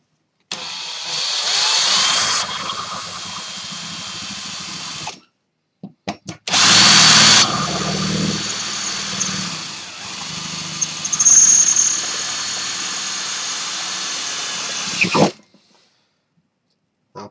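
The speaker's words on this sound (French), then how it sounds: "je perce un petit peu." Power drill with a multi-material bit boring holes into a homemade box casing. There are two loud whining bursts separated by brief stops and quick trigger blips, and the second burst holds longer before cutting off.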